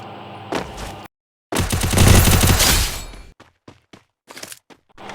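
Bursts of rapid automatic gunfire from a shooter video game, a short volley, a pause, then a longer dense rattle followed by scattered single shots and clicks.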